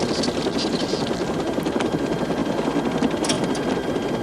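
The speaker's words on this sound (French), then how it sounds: "Voilà que je sais piloter un hélicoptère." A helicopter flies in a 1994 film scene, its rotor producing a steady loud chopping thrum with a whining engine underneath, continuous throughout.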